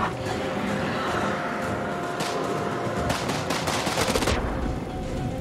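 Rifle gunfire in the video game The Dark Pictures: House of Ashes: bursts of rapid rifle shots crackle over a constant loud rumble of battle noise, the shooting growing denser toward the end.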